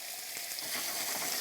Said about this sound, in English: You need to hear the sizzle.